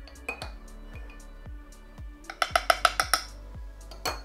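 A spoon stirs melted chocolate and crème fraîche in a pot for a Christmas log glaze, giving a fast run of close, bright metallic clinks against the pot's sides after softer regular scraping taps.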